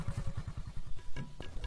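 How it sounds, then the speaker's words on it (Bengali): A motorcycle engine putters nearby with a rapid, pulsing throb that shifts slightly as the bike draws in. The sound is brief and moderately loud, with no speech. "মোটরসাইকেল আওয়াজ পাওয়া যাবে"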